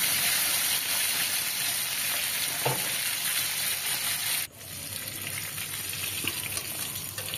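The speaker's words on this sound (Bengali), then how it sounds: "প্রথমে আমি মাছগুলো ভেজে নিচ্ছি। বেশ লালচে লালচে করে মাছগুলো ভেজে নেব।" Tilapia fish frying in hot oil, a steady close sizzle and crackle running throughout with a brief clink partway and a slight drop in level after a stir.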